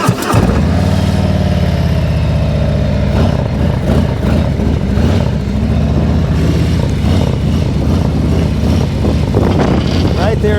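A motorcycle engine runs steady and loud close by as the bike leans into a tight left-hand circle near its roughly 32-degree lean limit, with a continuous mid-pitched drone throughout.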